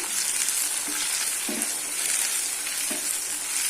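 Ripe tomatoes hit sautéed onions and curry leaves in a hot pan, raising a loud, steady hiss of sizzling oil with a few soft stirring scrapes, close and continuous.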